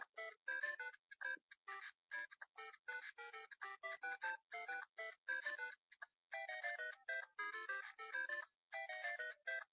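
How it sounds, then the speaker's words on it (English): Super Mario Brothers video game theme played as a phone ringtone, a bright electronic melody of quick staccato notes in a bouncy rhythm, heard clearly and alone. "The next one is the Super Mario Brothers theme."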